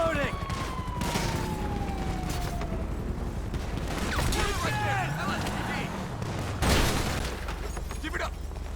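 GTA 5 gameplay with bursts of gunfire and sharp impacts amid sirens and mechanical clatter, dense and loud, mixed with in-game voices.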